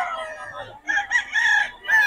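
A rooster crows loudly and close by at a poultry sale in Bocaue, with a long drawn-out call following a shorter opening burst.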